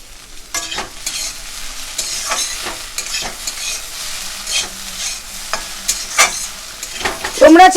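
Egg and potato bhujia is stirred and fried in a pan with a little tomato sauce added, giving close, loud scraping stir strokes at an uneven rhythm over a steady sizzle.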